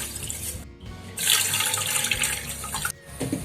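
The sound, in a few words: pouring water into a pan with sugar for syrup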